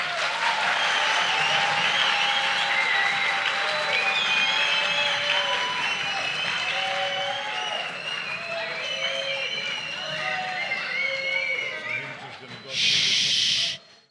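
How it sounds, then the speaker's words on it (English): An audience applauds contestants at a Moshiach Chidon quiz event: a dense, steady wash of clapping with whistle-like tones and voices running through it, then a short, harsh hissing burst near the end before it cuts off. "Give them a round of applause."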